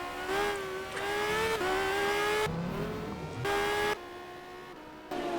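A Le Mans Series prototype race car in a racing video game laps Mid-Ohio, its engine climbing through the revs in steady bursts with abrupt cuts at each gear change, loud and close throughout.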